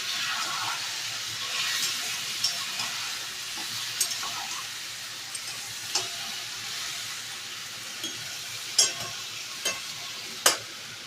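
Meat being kosha-sautéed with a little reserved meat stock, a steady hissing sizzle broken by occasional spoon knocks and scrapes against the pot.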